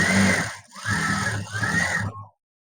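A sewing machine stitches the lining of a size 44 blouse, its motor whirring in a few short runs with a brief pause between them before stopping.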